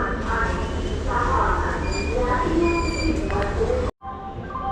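A train starting to move rumbles and clanks with high metallic squeals from the wheels, loud and close, under a background of station chatter, cutting off briefly near the end.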